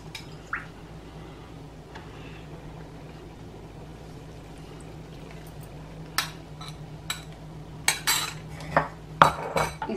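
Salad is tossed with dressing in a bowl, first quiet and soft, then a run of clinking cutlery and wet squishing knocks near the end, close and fairly faint, with no talk.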